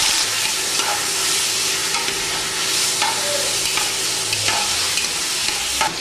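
Onion and tomato fry in a pan, a loud continuous sizzle with repeated scraping stirs of a utensil throughout and no talking.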